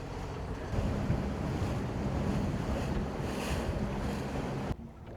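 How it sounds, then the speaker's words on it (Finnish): Strong wind roars across an open Arctic lake, Miekojärvi, in a steady, buffeting rush with lapping waves, continuous and loud, then abruptly drops off near the end. "Tässä on kyllä vähän liika kova tuuli."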